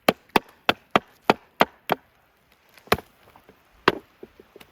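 Hammer blows driving a nail into wood while building a birdhouse: seven sharp, evenly spaced strikes close up, then a pause and a few more scattered, lighter knocks.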